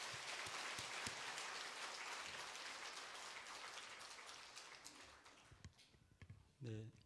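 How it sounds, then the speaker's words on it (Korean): Church audience at an evangelistic festival gathering clapping to welcome a hospital director to the stage, dense distant-sounding applause that thins out toward the end as a voice begins to speak. "우리 원장님 나오실 때 다 같이 박수로 환영하겠습니다."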